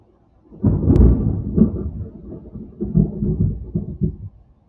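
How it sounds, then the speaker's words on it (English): Deep rolling thunder from a storm, a low rumble that swells in after a quiet start, fades slightly, then rumbles again in a second wave before dying away, heard alone without talk. "Yeah, it's thunder."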